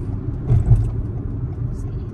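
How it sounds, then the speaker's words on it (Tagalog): Heavy road traffic on Southwest Marine Drive heading into Vancouver, heard from inside a car as a steady low rumble of engines and tyres with a passing swell midway. "Grabe ano, ang dami sasakyan no?"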